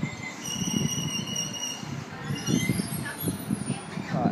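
Sydney Waratah train set A80 pulls out of Cabramatta station bound for Liverpool, a rumbling electric train with rising motor whines and squealing tones at moderate distance.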